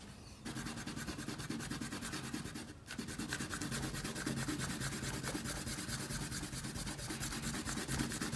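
An eraser rubs back and forth over paper to remove pencil construction lines from an ink drawing, a close, rapid, steady scrubbing rasp with one brief pause partway through.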